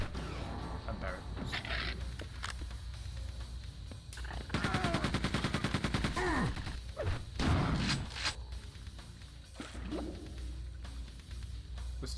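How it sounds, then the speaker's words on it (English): Rapid bursts of gunfire from the first-person shooter Quake II, with a sustained automatic stretch in the middle and scattered shots around it, set against game ambience and occasional speech. "Stop shooting people."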